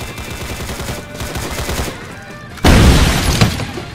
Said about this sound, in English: Our glass has been shot out.